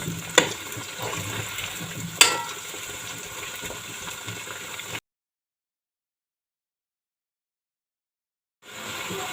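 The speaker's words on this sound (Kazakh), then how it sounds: "Мінекей біздің картоптар қуырылып жатыр." Oil sizzles and crackles steadily as potatoes fry in a pan, with a couple of sharp clinks, then silence before the sizzling returns.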